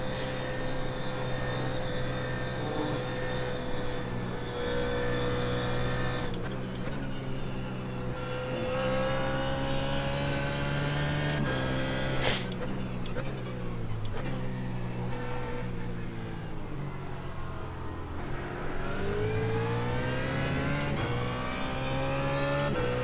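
A BMW race car in the iRacing sim game holds a loud, sustained engine note at speed around the VIR circuit, pitch dipping and climbing through gear changes, with a brief sharp click midway.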